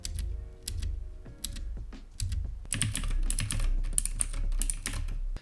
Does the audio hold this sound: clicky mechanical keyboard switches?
yes